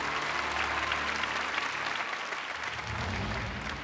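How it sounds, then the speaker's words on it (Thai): Studio audience applauding a two-time champion on a Thai code-breaking game show, a dense, loud, continuous wash of clapping that holds steady throughout. "ขอเสียงปรบมือดังๆให้กับแชมป์สองสมัยของเราพี่โอครับ"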